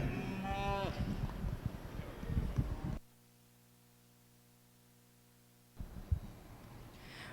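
Cattle heard at a livestock show, Highland heifers in the class, with a single loud drawn-out moo at the start, followed by a quiet stretch and a brief rustle near the end.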